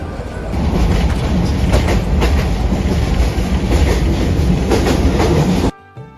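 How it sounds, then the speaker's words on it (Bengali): A Haor Express passenger train runs loudly through Gafargaon station, a steady close rumble with clickety-clack of wheels on rails that cuts off abruptly near the end. "আমাদের ট্রেনটি কিন্তু এখান দিয়ে অনবরত ছুটে চলেছে সেই ঢাকার উদ্দেশ্যে"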